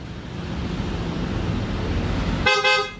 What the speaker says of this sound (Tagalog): And loud horn.